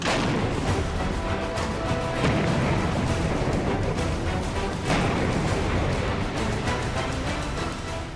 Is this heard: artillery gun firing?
yes